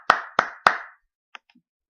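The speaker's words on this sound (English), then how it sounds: "Round of applause to you, Human Tim." Three sharp hand claps in quick succession, close and crisp, followed by a couple of faint taps, like a brief round of applause from a small group or one person.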